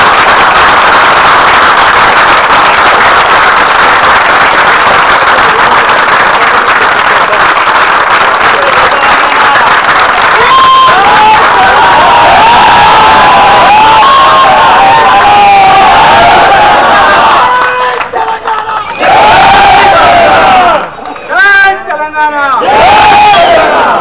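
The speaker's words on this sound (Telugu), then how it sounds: "పెద్ద ఎత్తున చప్పట్లు కొట్టాలి." A large audience at a speech event at Vidyut Soudha erupts in loud, sustained cheering, shouting and clapping, the roar filling the whole stretch with a few brief dips near the end.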